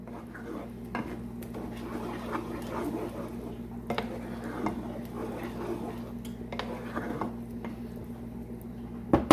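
A utensil stirs shrimp in a tomato sauce with parsley in a pan, giving soft scraping and clinking against the pot over a low steady hum, with a few sharper knocks.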